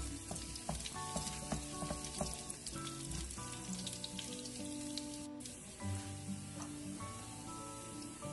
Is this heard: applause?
no